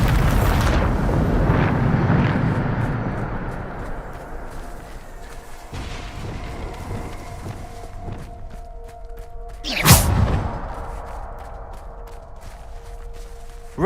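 Bombarda explosion spell in the Hogwarts Legacy video game, heard as a rumbling roar at the start, a dull thud around six seconds, and a sharp loud blast near ten seconds over low game ambience.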